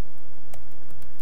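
Keys tapped on a computer keyboard while entering a terminal command on Ubuntu: a handful of light, irregular clicks over a steady background hiss, close by and with no talking.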